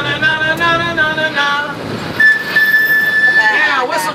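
The Key West Conch Train gives a loud steady whistle toot, then a second longer sustained blast, over the rumble of the moving tour train.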